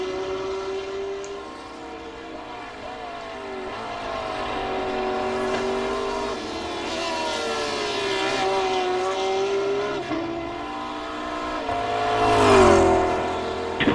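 A McLaren GT3 race car engine during a BSR GT3 Championship feature race, heard from afar as a continuous drone whose pitch rises and falls through gear changes, growing somewhat louder near the end, with no talking.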